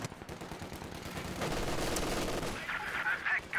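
Mosin Nagant rifles fire in a war video game: a dense patter of distant gunshots and battle noise that swells to a sustained roar midway, with faint whistling tones near the end.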